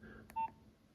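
A Nokia 6010 keypad gives a single short, clear tone as a key is pressed while entering an unlock code, with a faint click just before it in a quiet room.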